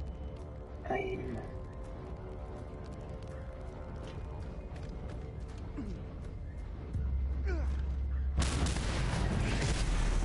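An oil pump blown up with an explosive in the Mad Max video game on PS4: a sudden loud, sustained blast and roar breaks in partway through after a stretch of low rumbling game ambience.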